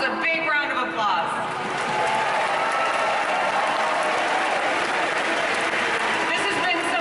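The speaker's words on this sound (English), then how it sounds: "I want you all to give yourselves a big round of applause." Loud, sustained applause from a large audience, dense clapping filling the space throughout with a few voices in the crowd.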